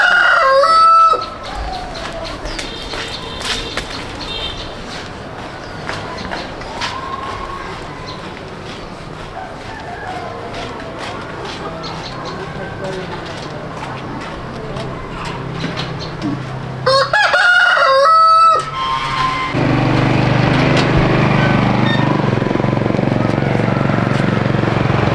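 Chickens cluck and a rooster crows repeatedly in a rural Vietnamese yard, the calls close and loud against a steady outdoor background, with a sharper burst of crowing near the end.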